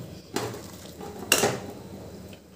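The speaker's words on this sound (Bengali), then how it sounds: "এরপর আমি দিয়ে দিচ্ছি কেটে রাখা পেঁয়াজগুলো" Chopped onions tipped into a cooking pot while making quick masoor dal, giving two short clattering drops against the metal, one at the start and a louder one a second later, with quiet kitchen background between.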